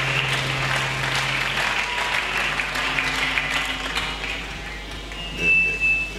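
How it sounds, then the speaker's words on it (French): A church congregation applauds during a Sunday service sermon, dense sustained clapping that fills the room at a steady level with a faint tone drifting through, and some scattered voices mixed in. "Acclamons très fort."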